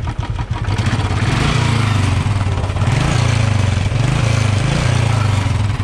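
A Royal Enfield Classic 350 motorcycle engine revs up close, a loud steady thumping rumble that swells under the throttle and holds for several seconds with no talk over it.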